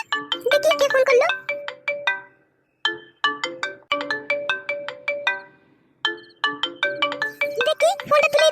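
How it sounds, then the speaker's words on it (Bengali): A mobile phone plays a bright, chiming melodic ringtone in repeated bursts with short gaps between phrases, loud and close, in a cartoon comedy scene. "কে আবার ফোন করলো মোবাইলটাতে?"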